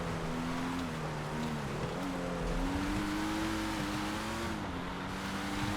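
Car engine droning through a snow race in GTA FiveM, a steady mid-pitched hum that rises and dips slightly with throttle changes, close and continuous for several seconds.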